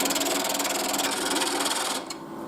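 Wood lathe turning stacked barrels as a diamond parting tool cuts the spinning wood, a loud close scraping rasp with a fast pulsing texture that eases off near the end.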